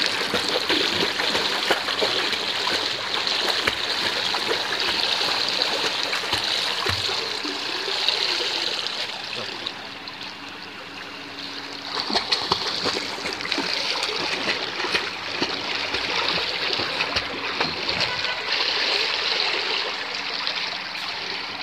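A swimmer's freestyle arm strokes slap and churn the water during a swimming lesson, making steady broadband splashing and rushing water. It is continuous and fairly loud throughout, with a brief lull midway and no talking.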